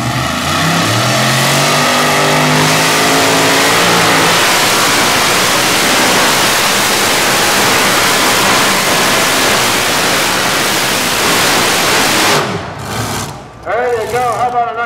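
A multiple-engine modified pulling tractor roars at a 2024 pulling event in Hagerstown, Maryland, its engines revving up into a sustained, deafening blare that breaks into sputtering bursts near the end, with announcer speech mixed in.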